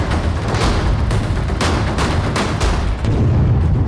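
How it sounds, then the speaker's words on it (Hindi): A loud, dense roar of blasts and rumbling, with repeated sharp bursts over a continuous heavy low rumble, as an IED explosion destroys a house in Pulwama. "एक ही धमाके में पूरा घर तबाह हो गया"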